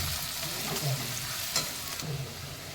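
Onion leaves fry in a pan with a little salt, giving a soft steady sizzle with a few scraping stirs, close and fairly quiet, with no talking.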